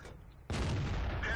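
An AMX 30 tank cannon fires in a tank video game: one sudden, loud blast about halfway in, followed by a sustained rumbling roar.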